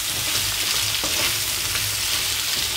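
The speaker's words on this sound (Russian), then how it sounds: "Кабачок жарим до красивой золотистой корочки." Steady, loud sizzling of zucchini frying over high heat in a hot pan, a continuous crackle with no voices.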